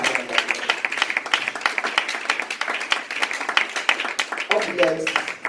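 An audience claps in a brisk, uneven patter of many hands, moderately loud, with a voice breaking in briefly near the end.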